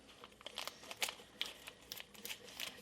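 A plastic package of Haldiram's paneer, 12.6 ounces, is cut and pulled open, giving quiet crinkles and short crackling snips close by.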